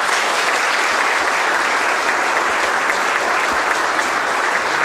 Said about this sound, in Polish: I to są gminy, które otrzymują specjalne oklaski.